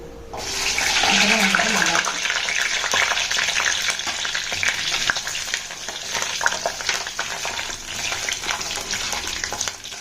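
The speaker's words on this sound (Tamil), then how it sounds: "பூண்டு வந்து எண்ணெயிலே ஒரு 5 நிமிஷம் வதங்கட்டும்" Garlic sautés in hot oil for a Tamil jackfruit-seed kara kuzhambu, giving a loud, steady sizzle and crackle that holds throughout with no talking.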